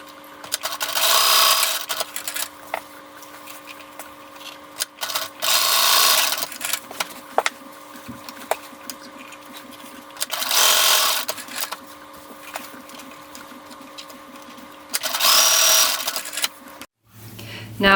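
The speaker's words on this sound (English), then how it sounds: "I'm stitching the strap right here to this seam allowance on both sides" Sewing machine stitching a strap onto a seam allowance for a fabric casserole carrier, running in four loud bursts of a few seconds each with quieter handling noise between them.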